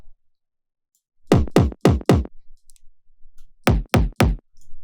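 Two bursts of punchy kick drum hits synthesized in Serum, four then three in quick succession, with deep booming thumps and silence between.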